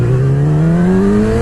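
A 2020 Yamaha R6 motorcycle engine revs loud and close, its pitch climbing smoothly and steadily with no talk over it.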